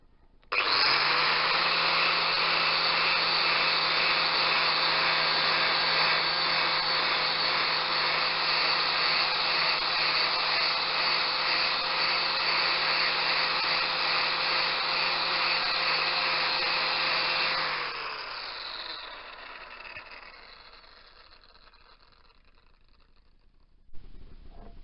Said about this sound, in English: I've just marked out the area for a quick grinding